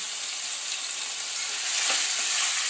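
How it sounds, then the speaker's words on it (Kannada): Village-style broiler chicken fries with ginger garlic paste in a pan, giving a bright, steady, close-up sizzle that holds constant throughout with faint stirring movement. "ಹಾಕ್ಕೊಂಡು ಈ ಥರ ಫ್ರೈ ಮಾಡ್ಕೊಬೇಕು ಚಿಕನ್ನ"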